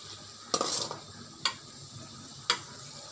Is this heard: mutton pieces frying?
yes